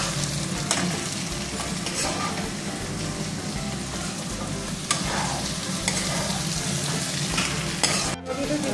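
Pumpkin fries in a hot pan, a close, continuous sizzle with scraping stirs throughout and a brief clatter near the end, no talking.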